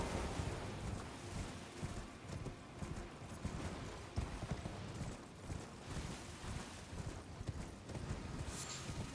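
Steady clip-clop of horse hooves trotting at a regular pace in the video game Elden Ring, fairly close, with a faint whinny near the end.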